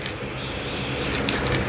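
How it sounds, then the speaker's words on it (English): Green spray paint hisses out of an aerosol can in one continuous, close, steady burst during a spray paint art demo of a space island scene. No voices are heard over it. "Just gonna spray some green on here."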